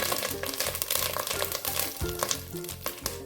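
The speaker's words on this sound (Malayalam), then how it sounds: "എണ്ണ ഒഴിച്ചു ഒരു എട്ട് പത്ത് ഉലുവ പച്ച ഉലുവ ചേർത്ത് കൊടുത്തു കറിവേപ്പില" Fenugreek seeds and fresh curry leaves crackle and sizzle in hot oil for a coconut chicken curry, a loud, dense, steady frying hiss with small popping bursts throughout, close up.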